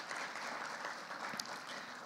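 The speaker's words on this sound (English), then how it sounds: "Round of applause, please." Faint, distant applause from a crowd at a youth energy summit plenary session, a soft continuous patter of clapping over a couple of seconds.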